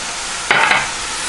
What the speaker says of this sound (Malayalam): ഇനി നന്നായി വഴറ്റുക ഉള്ളി ഏകദേശം നന്നായി വാടിയിട്ടുണ്ട്